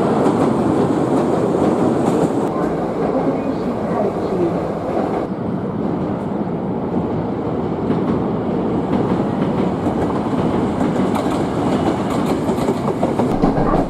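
A Hankyu Kobe Line train runs on the triple-track section alongside the Kyoto and Takarazuka lines. A loud, continuous rumble with rhythmic clickety-clack of wheels over rail joints fills the whole stretch, close and steady.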